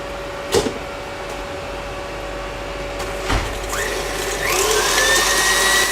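An electric hand mixer whips eggs and sugar for a dessert, a whirring motor tone rising in pitch and growing louder as the beaters work, after a couple of clunks.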